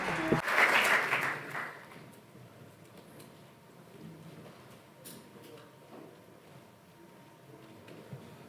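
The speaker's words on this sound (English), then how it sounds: "I would like the audience to give them a round of applause" An audience at a water policy dialogue panel gives a short round of applause, a burst of many hands clapping for under two seconds, then fading into quiet room noise with scattered small knocks.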